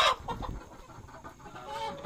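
Native chickens and a red rooster cluck nearby in short, uneven bursts, with a few louder calls at the start and softer chatter after, against a quiet farmyard background.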